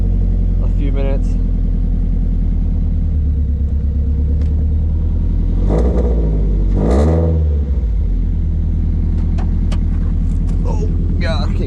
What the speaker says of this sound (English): this is what the car would sound like with the new intake that we just installed